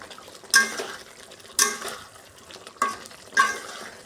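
Spices with Kashmiri chili powder being sautéed in a pan, with four distinct bursts of scraping stirs against the metal over a faint, soft sizzle underneath; close and moderately quiet.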